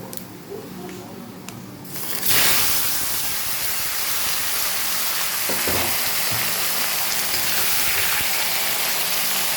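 Mustard greens (kachu saak) drop into hot oil tempered with dried red chillies, nigella and fenugreek, bursting into a loud, steady broadband sizzle that holds on close and continuous after a quieter start.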